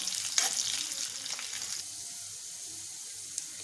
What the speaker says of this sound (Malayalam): ഇനി ഈ ഇഞ്ചിയും വെളുത്തുള്ളിയും കൂടെ നന്നായി ഒന്ന് വഴണ്ടി വരണം ഈ എണ്ണയിൽ.